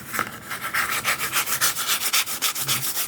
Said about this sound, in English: Cardboard scratching to be particular.